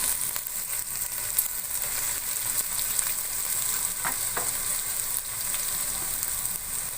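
Okra frying in a pan for a spiced tomato bhindi dish, a steady close sizzle with faint stirring scrapes and a couple of soft knocks, no voices.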